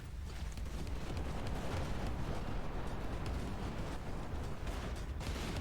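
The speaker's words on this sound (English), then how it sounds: "Fire all reserve torpedoes at once" A barrage of torpedoes launched in the space game Everspace 2 makes a steady, dense roar of overlapping bursts and booms. It runs at moderate loudness with no letup and no voices.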